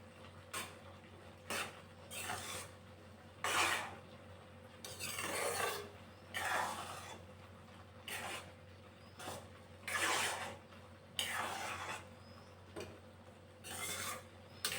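A spoon scrapes and stirs vermicelli upma with chopped coriander leaves in a pan, giving about a dozen soft, uneven rasping strokes separated by short pauses, close but quiet, with no voices.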